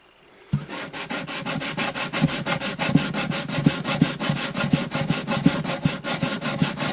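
A rosewood bridge on an Alvarez Artist AD65 acoustic guitar gets lightly hand-sanded. Close, rhythmic back-and-forth rasping strokes begin after a brief pause and continue evenly, with no talking.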